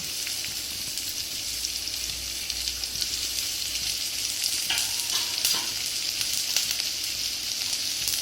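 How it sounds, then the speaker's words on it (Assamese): Chopped vegetables dropped into a pan with onions already frying, a steady loud sizzle with brief bursts of crackle and stirring, close and without talk. "এতিয়া মই কাটি ৰখা পাচলিখিনি ইয়াতে দি দিম"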